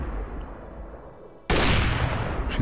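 Turrets open fire in the factory-building video game Factorio: after a quiet, low rumbling moment, a sudden loud, sustained barrage of gunfire erupts and continues to the end.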